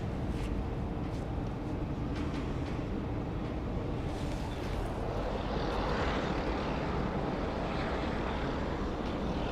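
A passenger airliner rumbles at Sydney Airport, a steady broadband roar holding throughout with a slight swell toward the end, heard from a distance with no voices.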